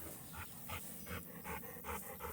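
Several dogs panting in quick, rhythmic bursts at close range on a farm, the breathy puffs rising and falling steadily with no talking.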